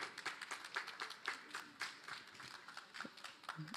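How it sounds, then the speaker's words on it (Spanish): A short burst of scattered hand clapping from a small group at a housing talk in Recoleta, the claps uneven and fairly quiet, fading toward the end. "Fuerte el aplauso."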